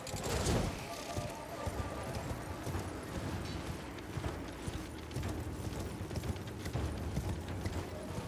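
Steady rhythmic hoofbeats of a horse ridden along a road in the video game Elden Ring, continuous and fairly close, mixed with a dense background of game ambience.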